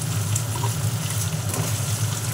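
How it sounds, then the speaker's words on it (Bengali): Potatoes and peas are added to lightly fried onion in a pan, giving a steady, even sizzle with no talking. "দেখুন পেঁয়াজটা একটু ভাজা ভাজা হয়ে গেছে"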